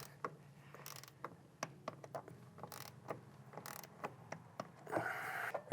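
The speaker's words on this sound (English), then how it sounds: "And torque these down to spec." A torque wrench ratchets and clicks while suspension bolts are tightened down on a 2020 Toyota Supra A90 during a lowering spring install; irregular mechanical clicks and short ratcheting bursts repeat close by, with a louder rasping stretch near the end.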